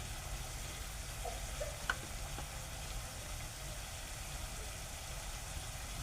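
Soybean dry vegetable sautéing in a pan with spices, giving a steady, even sizzle and hiss with a low background rumble, close and continuous with no talk.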